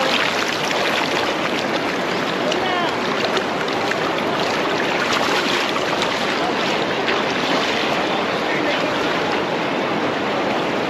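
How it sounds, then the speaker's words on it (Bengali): Loud, steady roar of rushing water at Athirappilly waterfall in Kerala, a constant broadband wash with wind buffeting the microphone, heard close and alone without any talking. "এই যে ঝর্ণা জলটা যাচ্ছে, এই জলটা গিয়ে যে নিচে পড়ছে"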